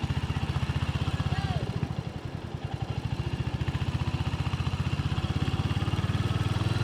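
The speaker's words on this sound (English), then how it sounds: "Nice thing about being on a motorcycle is you can kind of move around stuff." A motorcycle rides up a canyon through slow traffic, its engine a steady, close, throbbing drone that holds even throughout, with a voice talking over it.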